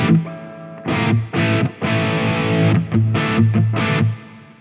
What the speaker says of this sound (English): I actually don't mind this distortion sound. Well, I think it's more like an overdrive, right?